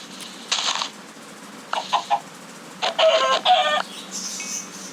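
Several short bursts of Minecraft chicken clucking come in quick succession, clear and close against a quiet background, sounding like game sound effects.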